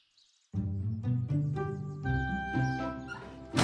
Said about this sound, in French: Le petit chien appelle à l'aide